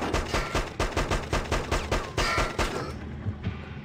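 Shotgun fire during a restaurant ambush in Hitman: Codename 47, heard as a steady series of loud, close shots about three per second that thins out and fades toward the end, with no talking.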